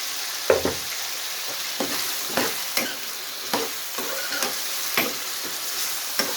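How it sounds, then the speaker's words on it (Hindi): Chicken sarson ka saag frying in a pan with onion and chilli, a soft steady sizzle broken by regular scrapes and clicks of a stirring spoon, close and fairly quiet. "इसको मज़ीद 5 मिनट फ्राई करेंगे।"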